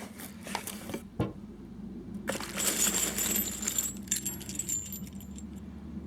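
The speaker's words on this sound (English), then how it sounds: "We have a lot of 45 brass that got caught up in the postal system" Loose .45 brass cartridge casings jingling and clinking together in a mail package, a continuous metallic rattle with a few sharper drops, close and fairly quiet.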